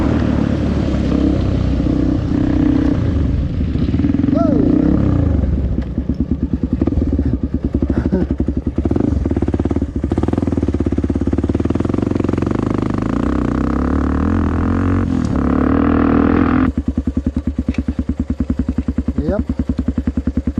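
Honda CRF 450X dirt bike engine running steadily and loud close by, with revving swells and some clatter, while voices talk over it.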